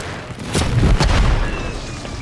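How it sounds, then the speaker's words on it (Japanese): Airstrike explosions in the video game Call of Duty: Warzone hit as a couple of heavy, close booms in quick succession, followed by a fading rumble. "空爆ガン刺さり"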